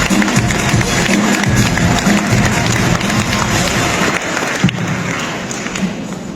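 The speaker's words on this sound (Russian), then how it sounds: "Давайте еще раз ваши аплодисменты" At a film festival award ceremony, an audience gives sustained applause, a dense, fairly loud wash of clapping with a few heavier thuds, tapering off slightly toward the end.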